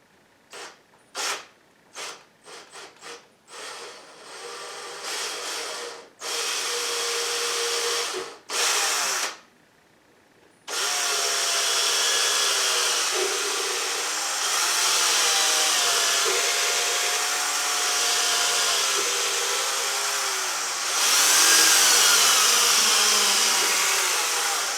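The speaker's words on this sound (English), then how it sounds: "before you start to drill." A power drill whirs in several short bursts, then runs steadily for a long stretch, its pitch wavering as it bores into wood to install drawer handles, loud and close.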